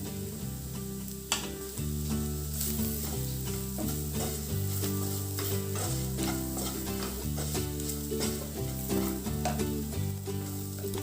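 Red chilli powder frying in a pan for a quick lemon pickle, a steady sizzle running under repeated scraping stirs, close and continuous, with a faint musical bed beneath.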